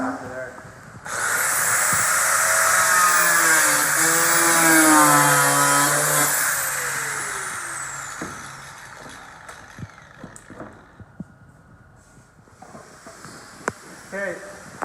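Power tool cutting away part of the front bumper flange on a 2020 Ford Transit AWD van, a loud, steady whining cut lasting several seconds with shifting pitch, then fading into quieter scattered clicks and handling noises.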